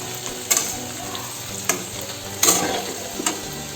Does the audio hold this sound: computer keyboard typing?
no